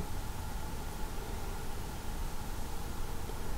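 Steady rushing hiss of a 10% imperial stout pouring aggressively down the center of a glass, fairly loud and unbroken, with no voices.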